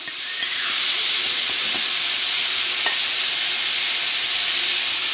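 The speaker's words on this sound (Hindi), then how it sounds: "अब इसमें जा रहा है जी ये सब्ज़ प्याज डाला है मैंने" Chopped green onions hit a hot pan of frying carrots for Chinese fried rice, setting off a loud, close sizzle. The steady hiss of steam continues throughout, with a few faint stirring clicks.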